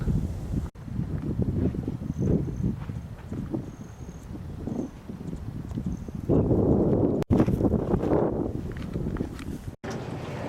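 Steady wind roars and gusts across the microphone at Lake Vallecitos above Durango, with rustling underneath and occasional louder buffets; no one speaks.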